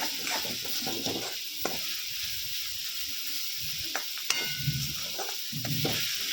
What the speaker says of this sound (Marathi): मीठ टाकल्यानंतर याला साधारण तीन ते चार मिनटं मंद आचेवर असं परतून होऊ द्यायचं